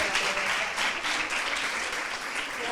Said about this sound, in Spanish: La recibimos con un fuerte aplauso, que se lo merece.